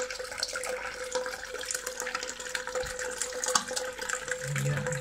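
Ideal Standard toilet cistern refilling after a leak repair, a steady close rush of running water filling the tank with no talk.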